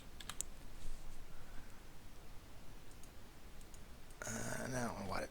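Keys on a computer keyboard click in a quick burst near the start, then soft scattered taps under background noise, with a person talking at the end.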